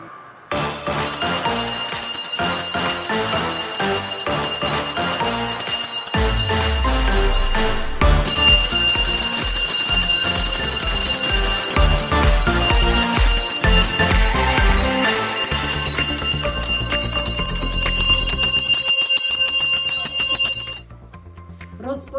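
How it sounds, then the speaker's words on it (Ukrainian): Bright, sustained ringing at a school's first-day ceremony on September 1, a loud bell-like tone with musical accompaniment running for about twenty seconds before stopping abruptly. "Перший дзвоник нехай пролунає, до науки, до знань закликає."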